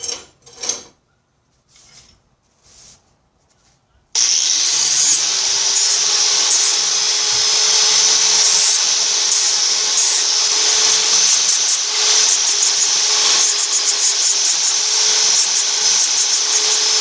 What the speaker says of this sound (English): So I'm just going to use my grinding disc.